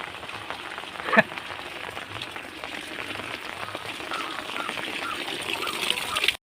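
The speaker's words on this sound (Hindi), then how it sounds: "देख रहे हैं बारिश बहुत हो रहा है हमारे यहाँ" Steady rain hisses down on surfaces, a dense continuous patter with one brief louder knock near the start.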